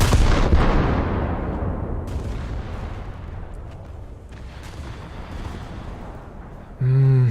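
Warship main guns open fire in a naval combat game. A loud booming salvo fades into a long rolling rumble, and a short tonal game alert sounds at the end.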